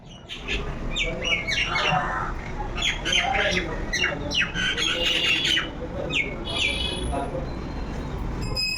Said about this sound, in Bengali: এত সুন্দর পাখির আওয়াজ চলো একটু কাছে যাই শোনাবো তোমাদের আওয়াজটা